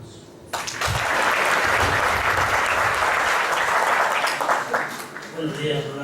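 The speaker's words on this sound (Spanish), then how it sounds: "desde luego pido para un aplauso." A conference audience in Mexico breaks into sustained applause, a dense wash of clapping that starts abruptly and carries on loudly before tapering slightly toward the end.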